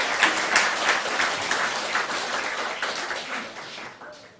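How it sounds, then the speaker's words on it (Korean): A church congregation claps in celebration during a Sunday morning worship service, a warm burst of applause that swells early and then gradually thins and fades over a few seconds. "다 축하 박수 한번 할까요?"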